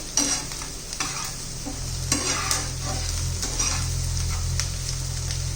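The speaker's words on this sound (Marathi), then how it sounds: "छान असं परतून घ्यायचा आहे कांदा आपल्याला" Onion sautéing in a pan for an egg tawa masala, a steady sizzle broken by repeated scrapes and stirring knocks of a utensil, close and moderately loud, with no one speaking.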